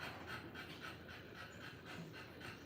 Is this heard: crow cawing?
no